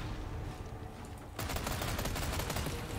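Rapid automatic fire from a max-level Chicago Sweeper submachine gun during a boss fight in Resident Evil 4 Remake. A steady stream of shots sets in partway through and continues unbroken over game noise.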